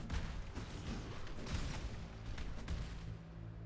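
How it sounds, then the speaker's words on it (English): Explosions in the video game Path of Exile rumble and crackle as a dense, continuous wall of booming noise, with several heavier bursts throughout, loud and close. "Oh, the explosion."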